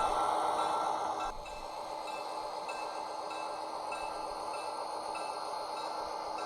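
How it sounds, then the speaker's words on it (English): A GP38-2 diesel locomotive runs by close up during switching work at industries in Cerritos, California, giving a steady loud rumbling hiss that eases slightly after the first second and then holds even to the end. "Nice close-up of the train running by."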